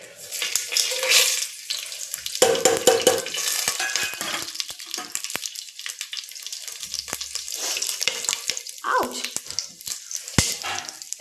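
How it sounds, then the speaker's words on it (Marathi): Whole spices sizzling and frying in hot oil in a pan for biryani, a steady close crackle with occasional stirring scrapes and a dog barking in the background. "चला मग आपण आता टाकून घेऊ खडे मसाले"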